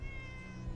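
A cat meows in a video game, one short tonal mew heard faintly over a steady hum of game music and background noise.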